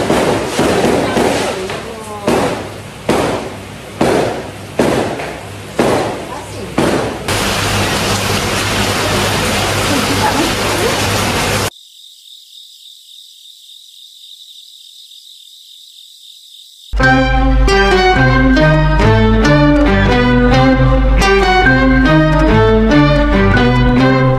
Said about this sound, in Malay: Lepas tu sekarang budak-budak tengah main bunga api kat luar.